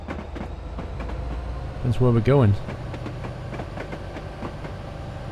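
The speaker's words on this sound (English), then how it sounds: "So basically, we're waiting for those trains to go through so that we could get onto this track." Trains rolling past in Train Simulator 2014 on the Oxford to London route with a Class 67 EWS locomotive, a continuous rumble with rhythmic clicking, while someone speaks briefly midway.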